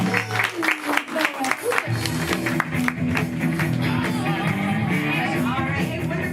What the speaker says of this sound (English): Clap for it.